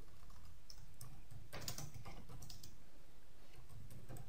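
Soft, steady typing on a computer keyboard, with quick light key clicks and a few slightly louder taps. The sound is faint and close over a low background hum, and no one talks.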